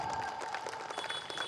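Quiet, dense applause from an audience at a Durga Puja celebration, a soft continuous patter of many hands clapping at some distance.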